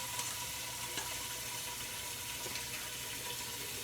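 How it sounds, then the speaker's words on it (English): Water running and draining off freshly boiled sweet potatoes into a sink, a steady broadband rush and trickle that stays even and close throughout. "So we're letting it drain a little bit."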